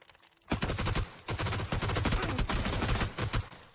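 Gunfire in the game PUBG: after a brief quiet moment, a loud rapid automatic burst starts, runs almost continuously, and is broken by short pauses between volleys.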